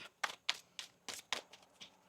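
Tarot cards riffled and shuffled by hand, seven or eight crisp papery bursts in quick succession, close and clear with no talking.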